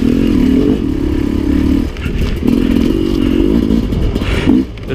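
A dirt bike engine revs hard and close, two long throaty bursts with a short dip between, then a final shorter rev, loud and with no voices.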